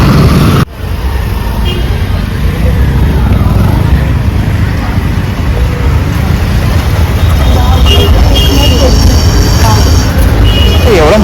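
Busy road traffic on a wide street beside the Vashi market rolls past as a loud continuous roar of cars, buses and trucks, with a few faint horn-like tones in the later part.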